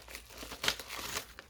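Bubble wrap and paper envelopes handled at close range, a quiet run of soft crinkling and crackling with one sharper crunch midway, no voices.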